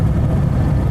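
A 1983 Citroën Visa Spécial's twin-cylinder engine with a twin-choke Solex carburettor runs steadily on the road, a close, loud low-pitched drone with no break.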